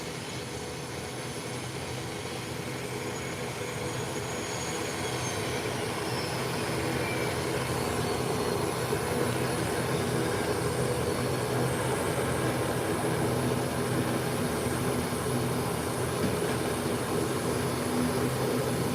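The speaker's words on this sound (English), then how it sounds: "while we watch the ATR heading to the threshold of the runway" An ATR turboprop airliner taxis toward the runway threshold for takeoff, its steady broadband engine roar heard from a distance, swelling slightly and then holding constant throughout with no voices.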